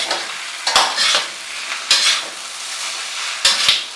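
Veg hakka noodles are tossed and stir-fried in a pan over high flame, with a steady sizzle broken by three sharp bursts of scraping and clattering from the stirring utensil, close and loud, with no voices.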